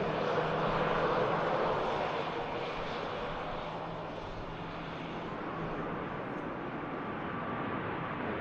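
A Ryanair jet floats in to land at Manchester Airport, its engine roar loudest at first and then easing into a steady, moderately distant rumble.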